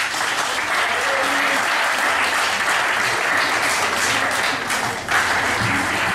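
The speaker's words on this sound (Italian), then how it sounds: "gli faremo un bel applauso." An audience at a football club's presentation evening in Sorrento breaks into sustained, loud applause for the club president, a dense continuous roar of clapping lasting several seconds.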